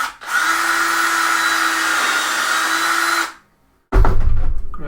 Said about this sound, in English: Okay, drill this. The drill, not the screw.